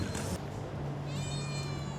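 A single drawn-out meow from a street cat rises close by, over a steady low hum of outdoor background noise in a Balkan town.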